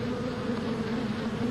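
A dense swarm of about 100,000 bees buzzes in a steady, loud drone around a rescue truck, with no talk over it.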